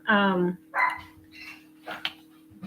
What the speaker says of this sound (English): I apologize that the dogs are going to be barking.